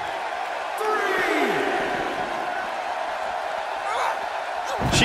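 Arena crowd noise from the wrestling video game WWE 2K18, a women's Hell in a Cell match: a steady roar of cheering spectators with a brief swelling whoop and a thud near the end.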